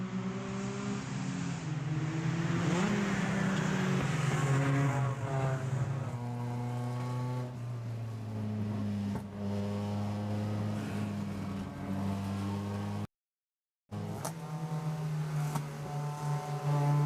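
Race car engine heard from an in-car camera on board at Road America during SCCA Super Tour racing, a loud, steady droning note that climbs and drops with gear changes, close and continuous, with one brief dropout and no talk.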